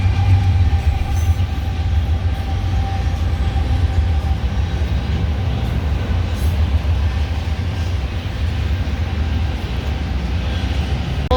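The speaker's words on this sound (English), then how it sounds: "right on time we got a train going by" A train rolls past a depot in Fargo, a steady broad rumble with rail clatter holding evenly for over ten seconds at moderate distance, with no one talking.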